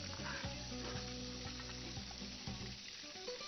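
Liver sizzling and frying on a hot griddle, Alexandrian style, a steady close crackle with a low rumbling undertone and occasional soft stirring knocks, no voices.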